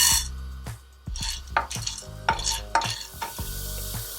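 Chana dal hits hot oil in a heated kadai, followed by close stirring scrapes and spoon taps against the pan over a soft sizzle, in irregular bursts.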